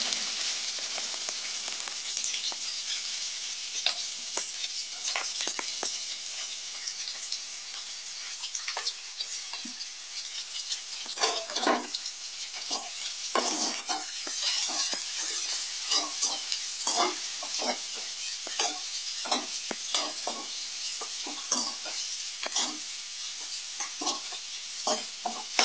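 Onions sautéing in oil with popped mustard seeds for a mushroom pepper gravy: a continuous bright sizzle is broken by frequent close spatula scrapes and clicks against the pan, growing busier midway, with no talking.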